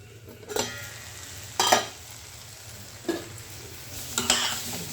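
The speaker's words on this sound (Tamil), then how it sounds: "பாருங்கள் இங்கே நல்லா வதங்கிக்கிட்டு இருக்காங்க" Tomatoes sizzle softly in a pan, with a few scraping stirs of a spoon at intervals over the low, continuous frying.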